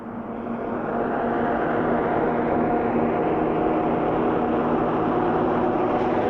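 A Bedford TM 4x4 military truck accelerates in fifth gear, its engine a steady, loud, rising drone heard from inside the cab, building quickly and then holding a constant roar without talk.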